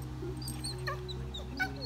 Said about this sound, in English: Puppy's crying.